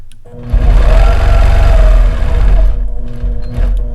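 Sewing machine stitching ruler-work quilting in a triangle design: a loud, steady, rapid mechanical whir that runs almost continuously, with a brief dip near the end before picking up again.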